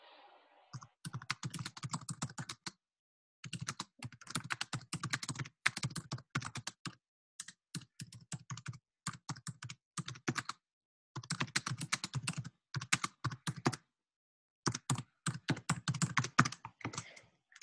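Someone types steadily on a computer keyboard indoors, with fast runs of close clicking keys broken by short pauses, across the whole stretch and with no speech.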